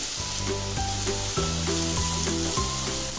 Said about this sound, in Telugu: అందులో సన్నగా తరిగి పెట్టుకున్న పెద్ద ఉల్లిపాయ ముక్కలు వేసేయాలి